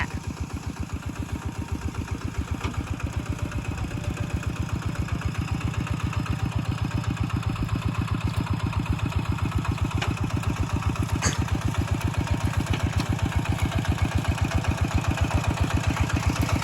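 A tractor engine runs steadily while plowing a field, a loud close chugging drone with an even rapid pulse that slowly builds in strength over the whole stretch, with no voices.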